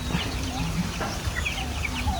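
Month-old chicks and chickens clucking on a range, scattered short clucks and chirps over a steady low background hum, fairly close.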